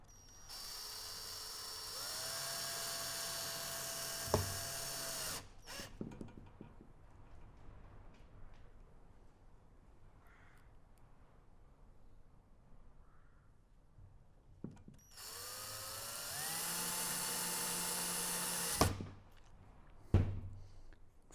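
A cordless drill drives screws into wooden planter boards at slow speed, two sustained whirring runs of a few seconds each with a pitch rising as it spins up, close by, separated by quieter handling noise and clicks.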